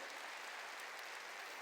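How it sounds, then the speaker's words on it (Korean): A church congregation applauding, a dense, even wash of many hands clapping, steady and somewhat distant, with no single claps standing out. "박수로 하나님께 영광을"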